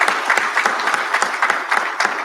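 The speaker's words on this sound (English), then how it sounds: "a round of applause, please." Sustained audience applause at a recognition ceremony, a steady dense patter of many hands clapping close by, even in level from start to finish with no voices above it.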